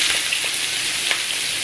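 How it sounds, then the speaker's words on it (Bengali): Fish frying in hot mustard oil on a gas stove, a steady close sizzle with faint crackles and pops throughout. "এখানে আমি মাছগুলো ভেজে নেব।"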